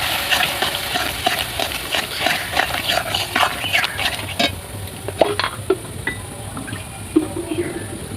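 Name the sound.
water from rinsing the bowl poured into frying spice paste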